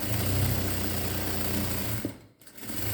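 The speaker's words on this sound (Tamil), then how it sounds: "அப்படியே துணியை இழுத்து பிடிச்சி ஒரு படிமான தையல் ஸ்ட்ரைட் தையலாக போட்டுடுங்க கரெக்டாக" A sewing machine runs steadily, stitching a straight seam along a blouse border, with a brief pause and dip near the end before the motor hum resumes, close and alone without talk.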